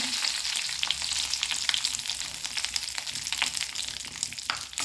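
Urad dal crackles and sizzles steadily in hot oil for a Kerala-style cluster bean stir-fry, a dense continuous hiss with scattered pops, close and fairly loud throughout.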